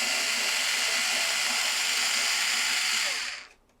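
A power screwdriver spins a screw into a SNOO bassinet that keeps turning without tightening, a loud continuous high whir held for about three seconds before it abruptly winds down and stops.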